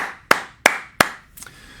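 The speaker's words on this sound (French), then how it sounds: "on applaudit son mari, les gars. On applaudit son mari." Three sharp, distinct hand claps ring out at an even pace, close and crisp, followed by a fainter fourth, in an otherwise quiet room.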